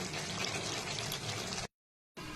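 A pot of gravy bubbling on a stove gives a steady, dense boiling and bubbling wash that runs continuously, breaks off into a short silence, then resumes.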